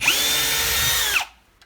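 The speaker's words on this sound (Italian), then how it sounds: "Proviamo a forare questo legno con la punta specifica per il legno." A Parkside Performance brushless cordless drill bores into softwood with a wood bit, a loud steady whining motor that holds its pitch for over a second and then spins down abruptly and stops.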